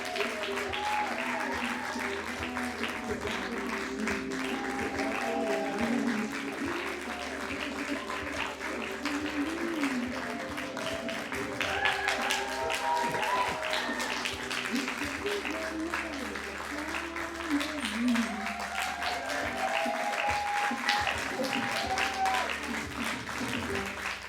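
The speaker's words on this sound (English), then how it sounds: "Big round of applause for our studio audience." Studio audience applause rolls on steadily for the whole stretch, with talk and music-like tones mixed underneath the clapping.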